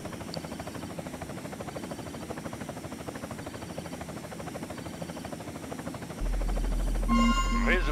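Helicopter air transport flying in Red Alert 2 Yuri's Revenge, a steady rotor thrum held for several seconds, joined near the end by a louder engine drone and electronic game tones.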